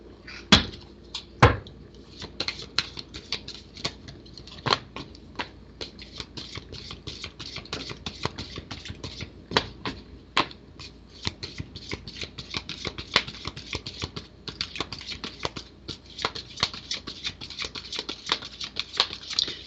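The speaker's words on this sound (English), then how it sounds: "We're going to shuffle up your card here." Tarot cards are shuffled close up, giving a long run of soft slaps and quick riffling taps in an uneven rhythm for about twenty seconds, with no talking.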